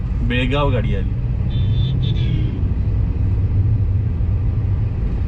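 A bus bound for Belgaum rumbles past on the Ratnagiri–Kolhapur highway near a concreted section, its low engine roar steady and close, with a brief voice and a short horn-like tone early on.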